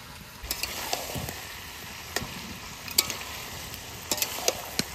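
Meat frying in a pan while ginger-garlic paste, added after onion paste, is stirred in: a steady close sizzle broken by irregular scraping clicks and knocks of the spoon, with no talking.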